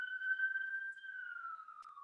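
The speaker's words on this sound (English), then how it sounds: "You can probably hear the ambulance in the background there." Ambulance siren drifting faintly in the distance, a steady wailing tone holding for a couple of seconds and sinking slightly in pitch, quiet and alone.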